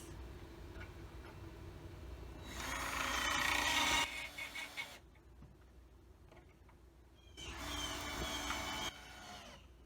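A platform frame for a vehicle roof rack being screwed together with a power screwdriver, heard as two loud whirring bursts of a few seconds each, separated by quieter handling and clicks.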